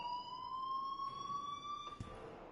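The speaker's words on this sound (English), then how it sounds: "please turn off that alarm since that's your job" An alarm rings in the Life is Strange video game, a steady electronic tone with bright overtones held continuously at moderate level, with a brief thump near the end.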